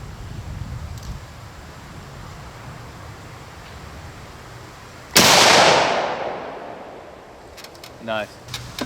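A single loud Savage Axis .308 rifle shot cracks out partway through, its blast decaying over about two seconds over low outdoor rumble, followed by faint clicks.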